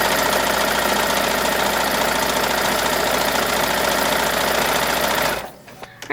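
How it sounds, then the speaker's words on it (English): A domestic sewing machine hems a ruffle with a hemming foot, running in one loud, continuous, steady whir for about five seconds before stopping abruptly, followed by quieter handling sounds. "right now I'm working on hemming the ruffle that's going to go onto the fancy sacque, and I'm using a hemming foot"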